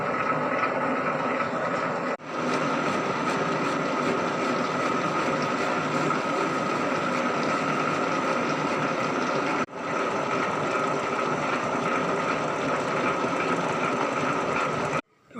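A metal lathe cutting a right-hand thread runs as a steady, continuous machine drone with a constant hum, broken by two brief dips, with no talking over it.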